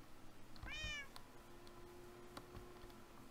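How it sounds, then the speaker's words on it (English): A single clear meow from a cat in the video game Minecraft, short and rising, heard over a faint quiet background with a few small clicks afterward. "I think it just meows."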